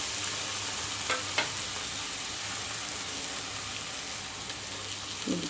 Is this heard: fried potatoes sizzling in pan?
yes